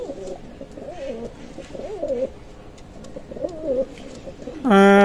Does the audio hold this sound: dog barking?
no